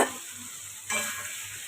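Spice paste frying in oil with potato and pointed gourd, a low steady sizzle that swells briefly midway, with faint stirring and no voices.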